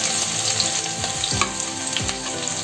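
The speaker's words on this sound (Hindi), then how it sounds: "डाल रही हूँ अपनी हरी मिर्च और साथ में अदरक।" Green chili and ginger fry in hot oil with hing and cumin, a steady close sizzle broken by a few clinking spoon stirs, with no voices.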